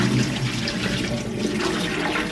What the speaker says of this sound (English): Draining the boiling water.